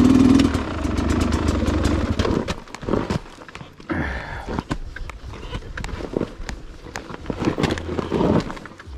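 A dirt bike engine putters and revs unevenly on a rocky trail ride, close and fairly loud, with short bursts of throttle and clattering over about nine seconds.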